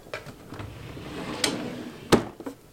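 A makeup drawer being opened gives a few soft sliding scrapes and light clicks, with a sharper knock near the end, close by and fairly quiet, with no speech.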